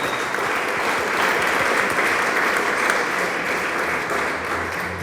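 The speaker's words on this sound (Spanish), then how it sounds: "Dele palmas al Señor." A church congregation claps in a steady, sustained wash of applause that fills the room at an even volume throughout, with faint voices mixed in underneath.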